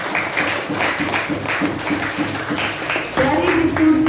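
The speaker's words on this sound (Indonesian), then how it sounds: "Tepuk tangan untuk semua kelas 6C." A class of 6C schoolchildren claps together for their group presentations, steady applause running throughout with an adult voice and some shouting over it near the end.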